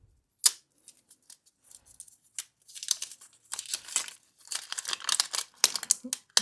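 Thin plastic casing being peeled and crinkled off Shokz OpenDots 2 earbuds during an unboxing, a close, soft run of irregular rustles and crackles that grows busier toward the end.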